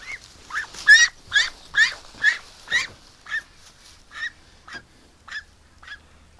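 A small duck quacks over and over, a dozen or so loud, nasal honks at a steady pace, close to the mic and growing slightly softer toward the end.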